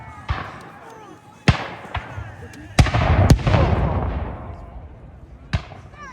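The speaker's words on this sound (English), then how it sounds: "the cannons that are firing are called grasshoppers" Sharp booming shots from small Revolutionary War-era 'grasshopper' cannons at a reenactment go off one after another at uneven intervals, with rumbling echoes and scattered crackling between them.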